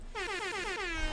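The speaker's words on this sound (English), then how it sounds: "Maybe get an air horn." A loud, close air horn gives one sustained blast of about a second, its harmonic tone held steady and gradually sliding slightly downward, with no talk over it.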